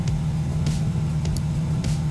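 A Mazda RX-7 engine in the Tuning Club Online racing game drones at a steady, loud rumble with faint periodic swells, alone with no talk.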